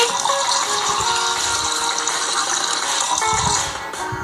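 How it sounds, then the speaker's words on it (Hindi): Water poured while making noodles in a kids' cooking video game: a loud, steady gushing rush with some rattle, running for several seconds, with no talk. "अब नेक्स्ट हम पानी डालेंगे"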